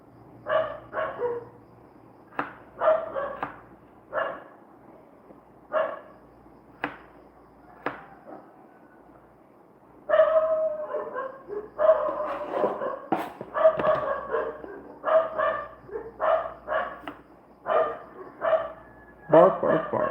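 Several dogs barking outside in the Philippines, loud repeated bursts of barks and yips in irregular clusters, sparse at first then denser and more continuous in the second half, with no talk over them.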